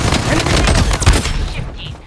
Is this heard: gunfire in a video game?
yes